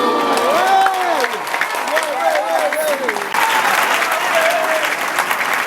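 An audience of students at an anti-corruption awareness campaign event applauds steadily for several seconds, a dense wash of clapping with voices and a speaker's voice rising over it.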